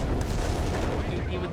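A whiz-bang rocket artillery barrage in Company of Heroes 3, a dense, continuous roar of impacts and blasts. A commentator's voice runs underneath.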